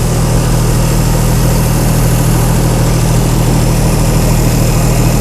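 A Chrysler Slant 6 generator engine idles steadily just after startup, a close, continuous low rumble with even vibration and no voices throughout.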